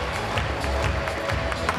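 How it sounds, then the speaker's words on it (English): Crowd clapping and cheering at a pole vault competition on an outdoor runway, a dense, steady wash of applause with scattered individual claps standing out close by. "the claps are loud all the way to the back of the runway"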